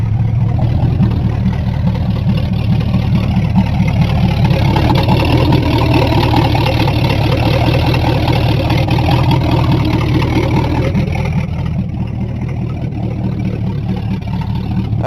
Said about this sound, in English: This usually starts pretty good. Pump it a couple times. Yep, fires right up.